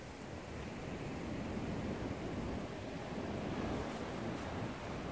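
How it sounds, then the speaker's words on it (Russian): Steady, broad wind roar that fills the whole clip, a constant rushing noise with slight swells and no voices. "Наверное, слышно, как ветер гудит."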